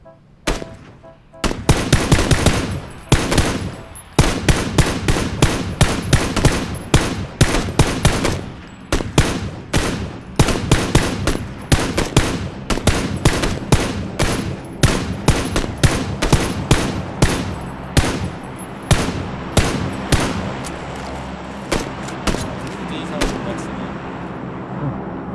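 Gunfire in the battle-royale game PUBG rattles in dense automatic bursts and rapid single shots, loud and close, firing almost continuously for about twenty seconds before thinning out toward the end.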